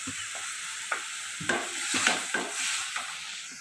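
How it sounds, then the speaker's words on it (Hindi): Tomatoes with green chillies frying in a pan for South Indian rasam, giving a steady broad sizzle with a few soft scrapes and taps of stirring, heard close with no talk. "तो हमारा जो टमाटर है वो फ्राई हो रहा है"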